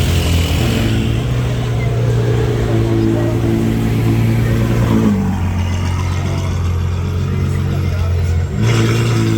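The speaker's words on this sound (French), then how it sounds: "F12 Novitec N Largo. Ça aussi ça fait du bruit." A Ferrari F12 with a Novitec N-Largo body kit revs its engine loudly up close on a Cannes street. A steady deep rumble rises and falls with the throttle and is briefly cut near the end.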